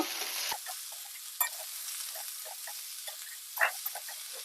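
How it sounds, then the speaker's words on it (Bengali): Mixed vegetables and small river fish sautéing in a pan with salt and turmeric for a chorchori: a low hiss broken by soft, irregular scraping and stirring sounds, close by and unaccompanied by talk. "দিয়ে ভালো করে কষিয়ে নেব"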